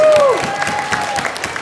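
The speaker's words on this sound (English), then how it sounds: "Give him a round of applause for that" Brief burst of clapping and light cheering from wedding guests after a friend finishes pull-ups, loud and close, mixed with a rising tone and a bit of voice in the crowd.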